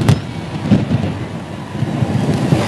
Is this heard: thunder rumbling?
yes